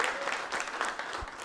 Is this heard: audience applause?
yes